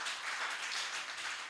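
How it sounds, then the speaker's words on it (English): An audience at a business export summit applauds, a brief burst of many hands clapping at once, faint and distant in the room. "Please, a round of applause for her."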